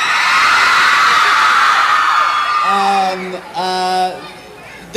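Fans at a mall tour Q&A scream and whoop loudly at close range in a dense, high-pitched wall of crowd noise that fades into scattered yells and cheers.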